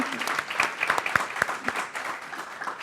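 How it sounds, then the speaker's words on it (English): Audience applause at a Trinity College women in leadership event as Joanne Berger-Sweeney is welcomed: a sustained round of clapping from a seated crowd with a few sharp individual claps standing out, fairly soft overall. "Another big round of applause."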